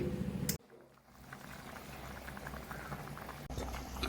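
A pot of fish curry bubbling steadily at a rolling boil, dense popping and gurgling throughout, briefly interrupted by a couple of sharp knocks.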